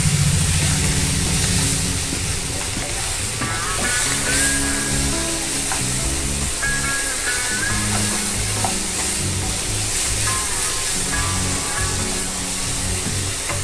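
Spiced fried potatoes for aloo dum are stirred in a hot pan, loud continuous sizzling and hissing broken by scraping strokes of a spatula, with no voices.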